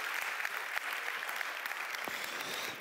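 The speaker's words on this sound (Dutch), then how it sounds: "Dus mag ik alsjeblieft een heel warm applaus daarvoor." Applause from a conference audience, a dense, steady clatter of many hands clapping at moderate distance without pause.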